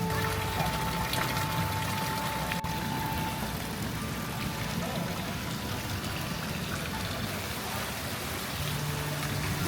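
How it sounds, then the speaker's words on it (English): Heavy rain pours down in Ubud, Bali, a dense, steady hiss of downpour that stays constant and loud throughout, with no breaks. "The rain only stopped for a few minutes and then resumed pouring down for hours."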